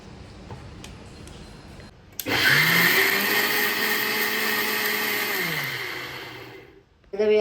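After a moment of quiet, a mixer grinder starts up abruptly and runs loud and steady for about five seconds while grinding chutney, then winds down and stops.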